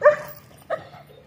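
A dog out on a morning walk gives two short barks about half a second apart, close by and fairly loud, with nothing else around them.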